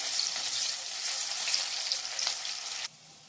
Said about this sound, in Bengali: পেঁয়াজটা একটু ভালো করে ভেজে নিতে হবে, লাল লাল করে ভেজে নিতে হবে